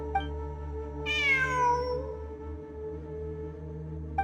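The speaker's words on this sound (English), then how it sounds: "It really is a cat." A cat in Genshin Impact gives one clear, drawn-out meow that slides downward in pitch. Soft chimes and a steady low ambient game hum play around it.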